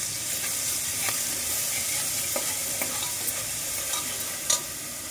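Ginger, garlic and green chilli paste stirred and frying in a pan for veg biryani, a steady close sizzle with scattered spoon scrapes and clicks throughout.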